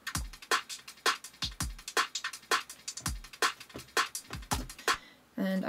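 Unprocessed drums, with a dry kick, snare, hi-hat, shakers and percussion, playing a steady groove of sharp hits at a moderate tempo, fairly quiet and alone, ending with a brief noise tail.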